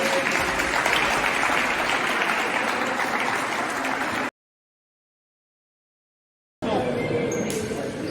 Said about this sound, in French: On peut applaudir les collègues, s'il vous plaît.